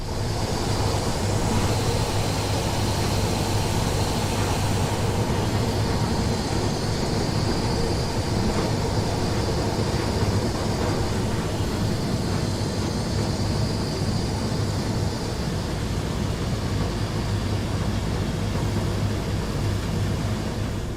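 Rail head treatment train on a Southeastern high speed line in Train Sim World 3, with water jets spraying under a constant rumbling drone of the train, a broad steady hiss running unbroken throughout.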